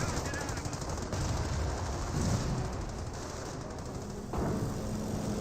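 In the Company of Heroes strategy game, .30 cal machine guns rattle in sustained overlapping bursts, dense and rapid against a noisy battle backdrop, with a brief drop in intensity partway through before the firing surges back.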